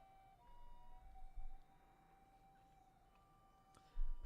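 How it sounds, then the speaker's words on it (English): Sirens wail steadily in the distance in the video game Chaos;Head NoaH, a long sustained tone with faint traffic rumble and occasional low thumps underneath. "the sound of sirens continued to echo endlessly"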